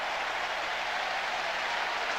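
A Metrodome football crowd at a 1996 Detroit at Minnesota game cheers and applauds in a steady, dense roar that holds at full strength throughout, with no talk over it.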